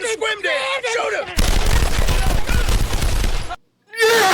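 Gunshots in the animated show Smiling Friends come as a dense, loud volley of rapid fire with crashing impacts for about two seconds. Cartoon voices and music sit on either side of it, and it breaks off abruptly.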